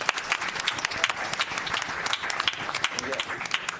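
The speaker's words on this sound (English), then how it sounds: "one more round of applause for these guys" Audience applause, brisk scattered clapping from a crowd for a few seconds, fairly close with some voices mixed in.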